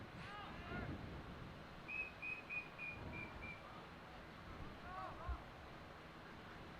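A referee's whistle at a boys' high school soccer match blows several short, clear blasts in a steady row, heard at a distance over wind noise and crowd murmur.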